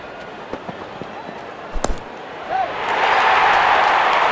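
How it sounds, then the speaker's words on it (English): A cricket bat strikes the ball for a six at a World Cup match between India and New Zealand, one sharp crack followed by a swelling roar of the stadium crowd under commentary. "Wonderful sound of the bat,"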